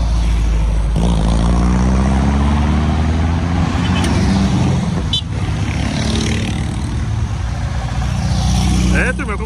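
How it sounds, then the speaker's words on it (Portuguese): Many cars pass by loudly at a Volkswagen car event, with engines rumbling and swelling in a continuous stream while people talk over the traffic noise. "é bastante carro que tá passando aí na sua telinha"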